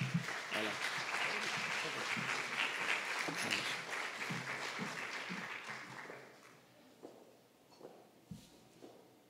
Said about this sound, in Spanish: Un aplauso, le damos inicio a su conferencia.